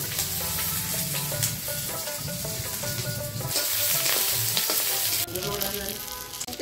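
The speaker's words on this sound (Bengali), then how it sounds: "এখন পেঁয়াজটা দিয়ে দিই।" Chopped onion fries in hot oil in a pan already holding garlic and green chillies, giving a loud, close, continuous sizzle with brief stirring shifts.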